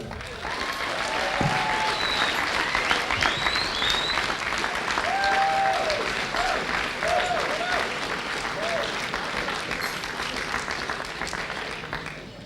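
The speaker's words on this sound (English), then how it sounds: "I want to give a big round of applause to Mark Fitzgerald" An awards-night audience gives a loud, sustained round of applause for a football club honoree at the 2007 Kerins O'Rahillys Awards Night, dense clapping filling the room continuously, with a few voices calling out above it.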